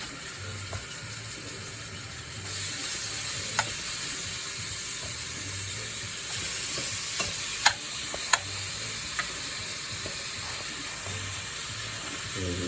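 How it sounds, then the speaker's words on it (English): Beef sizzles steadily in a hot pot as it is spread out for a Sunday beef stew, a constant hiss with a few sharp clinks and scrapes, and no talking. "See if you get a little sizzle like that."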